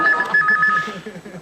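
A telephone rings on a prank call in a British TV comedy sketch: short electronic tone pulses sound close by, with murmuring voices underneath.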